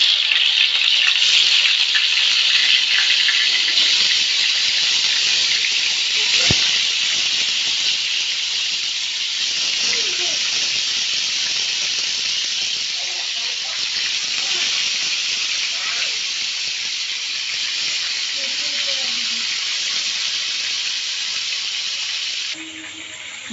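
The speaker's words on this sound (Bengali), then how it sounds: "মাছটা ভাজা হচ্ছে বন্ধুরা" Fish frying in hot oil in a home kitchen, giving a loud, steady hiss and sizzle that fades gradually over about twenty seconds, with faint handling sounds and a voice talking under it at times.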